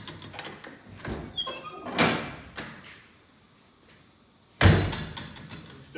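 Door being opened and closed on a spray foam rig, a series of rattling slides and knocks followed by a sharp, loud shut near the end, close by, with a quieter gap between.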